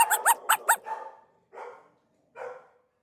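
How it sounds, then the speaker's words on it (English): A dog barks four times in quick succession, then gives two longer, softer yelps after short pauses; close and clear with no talking. "He followed the barking noises and found a room full of dogs"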